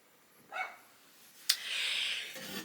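Dog named Jelly barking in the next room, faint and muffled, with a couple of short barks and a yip at low level.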